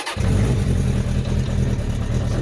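1981 Honda CB750K motorcycle engine catching on choke, a brief starter burst followed by a close, loud, rumbling idle.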